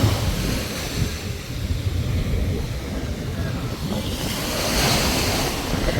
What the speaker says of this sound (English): Beautiful day to be at the beach.